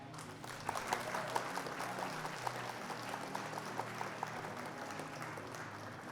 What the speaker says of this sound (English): Round of applause for our opponent though.